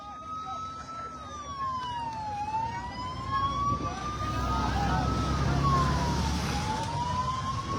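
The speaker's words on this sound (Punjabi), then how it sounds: "ਫਾਇਰ ਬ੍ਰਿਗੇਡ ਦੀ ਗੱਡੀ ਇੱਕ ਤਾਂ ਪਿਓ ਆਈ ਆ" A fire engine siren wails in slow rising and falling sweeps, moderately distant, over a low rumble of traffic and crowd noise.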